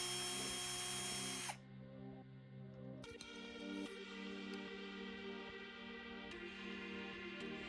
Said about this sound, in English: I drilled the holes and now need to connect them with the coping saw